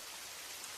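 Steady rain falls in a dense, even hiss of countless drops, faint and continuous with no voices or other sounds over it.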